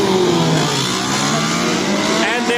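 Motorcycles launch side by side in a streetbike drag race, one a Honda, engines screaming loud and close as they rev up through rising pitch sweeps in a sustained roar.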